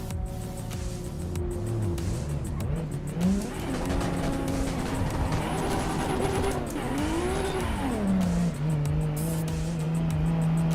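A Toyota Supra race car engine in Assetto Corsa EVO roars continuously, revving up and down through gear changes with occasional tire squeal, loud and steady throughout with no talk.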